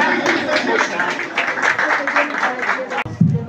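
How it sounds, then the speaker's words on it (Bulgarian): Applause from a restaurant audience celebrating the season opening at a venue in Kiten, a dense wash of clapping running steadily for a few seconds and breaking off abruptly near the end. "Още веднъж бурни аплодисменти за тях."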